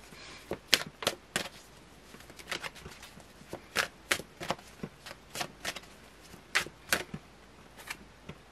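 Tarot cards are shuffled and drawn at close range, a series of crisp snapping flicks and riffles in uneven bursts, quiet overall with no talking.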